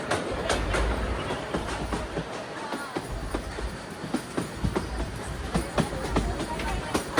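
Bilimora to Waghai narrow gauge train in Gujarat, a 110-year-old service, running slowly with steady rumbling and rhythmic wheel clicks close by, heard from on board as people talk in the background.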